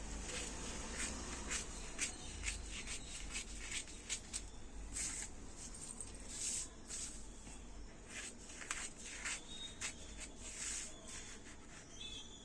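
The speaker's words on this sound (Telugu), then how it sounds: "దీన్ని కటింగ్ చేసి చూపిస్తాను మీకు గీత మీదకెళ్ళి కట్ చేసుకోవాలి" Scissors cut through blouse fabric along a marked line, giving a close series of crisp snipping and rustling strokes in an irregular rhythm, quiet and without talk.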